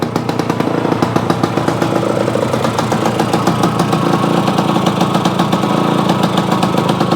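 A Yamaha AT-1 motorcycle converted to CT-1 spec runs its premix two-stroke engine, a loud, close, rapid buzzing putter at steady idle with faint irregular knocks, no voices.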